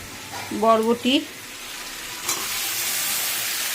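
Drumsticks (moringa) and soaked vegetables go into a hot pan for a fish-head curry. A brief voice comes first, then a steady, bright sizzle of frying rises and carries on.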